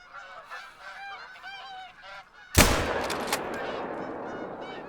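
A single sharp rifle shot at a deer in theHunter: Call of the Wild cracks loudly after honking geese calling in the Hirschfelden countryside, followed by a rolling echo and lingering ambience.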